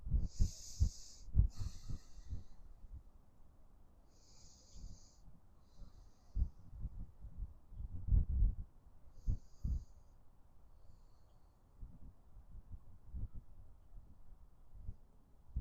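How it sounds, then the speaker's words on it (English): Slow, deep breathing during a guided meditation, with long soft hissing inhales and exhales repeated several times, close and quiet against a faint low background. "Relax back to your baseline breathing."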